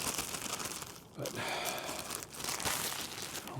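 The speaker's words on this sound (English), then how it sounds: "Plastic bag not in good shape." Plastic bag crumpled and crinkled outdoors in winter while geocaching, a steady close rustling and crackling with brief pauses, no talking.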